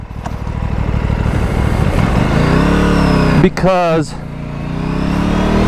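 An RS 457 motorcycle engine drones loudly and steadily while ridden through city streets and freeway, with a brief rev change midway and someone talking over the engine.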